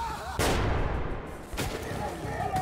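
Gunfire in the video game Metro Last Light Redux, with two sharp loud shots about a second apart standing out over a rumbling, noisy in-game background, with no talking during the shots.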